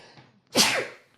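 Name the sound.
sneeze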